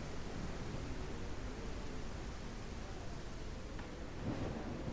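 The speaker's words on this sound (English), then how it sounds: "I cannot even hear myself think with how loud the storm is" Loud, steady storm roar of rain and thunder in the survival game The Isle Evrima, a dense rumbling wash filling the whole clip with a slight swell near the end.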